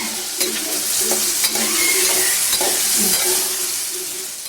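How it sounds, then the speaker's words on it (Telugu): Urad dal and mustard seeds fry in a pan for ridge gourd chutney, giving a bright, close sizzle with a scraping spoon stirring in a loose rhythm. "సాయి మినపప్పు వేసుకొని వేపుకోవాలి."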